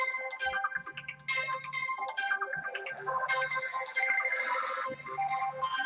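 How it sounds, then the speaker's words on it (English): A Motorola mobile phone plays its ringtone, a bright, melodic electronic tune of repeating chimed phrases heard alone and close, without any talking. "You have to forgive the phone for a minute, folks. I forgot to put it on airplane mode."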